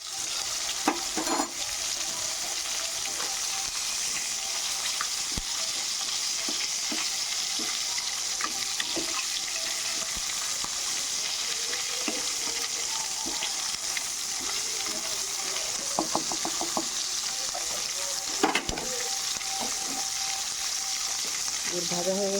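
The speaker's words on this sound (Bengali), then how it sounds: "এরকম করে আমি সব মাছগুলো ভাজা করে নেব।" Pieces of bhola fish fry in hot oil with a constant bright sizzle, punctuated by occasional scrapes and clinks as they are turned in the pan.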